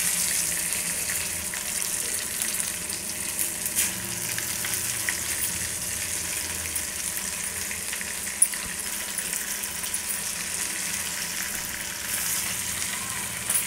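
Brinjal frying on a low flame as it is gently stirred, giving an even, steady sizzle with a faint hiss throughout and one small knock, heard close with no talking.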